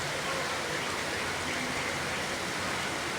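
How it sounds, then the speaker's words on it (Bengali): Heavy rain pours down steadily, a dense, even wash of broadband noise with no letup and no voices. "অনেক সুন্দর বৃষ্টি।"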